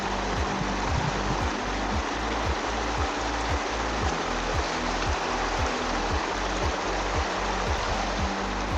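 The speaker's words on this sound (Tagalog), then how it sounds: "Ang lakas ng current ng river." Strong river current rushing steadily at a riverside campsite in Tanay, a continuous broadband roar of flowing water close by, with no voices over it.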